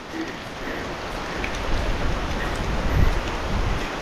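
Heavy rain and gusting wind in a rural province make a loud, broadband wash of noise that rises and falls, with a low thump partway through and no speech.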